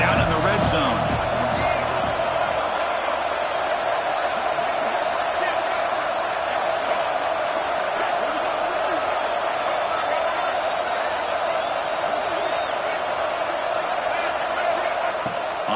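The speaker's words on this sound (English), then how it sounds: "the crowd coming to life here, trying to help this defense down in the red zone" Stadium crowd in a College Football 26 game roars in a constant, loud wash throughout, with a commentator talking over it.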